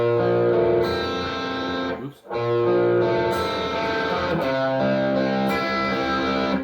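Electric guitar plays the bridge of a song, sustained ringing chords with a slightly driven tone. The playing runs steadily, breaks off briefly near the two-second mark, then resumes with further strummed chord changes, no voices.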